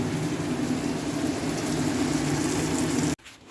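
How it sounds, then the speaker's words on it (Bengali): Prawns fry in a pan with a dense, steady sizzle and crackle close by, stopping abruptly near the end. "দেখো গাইস, চিংড়ি মাছ ভাজা চলছে।"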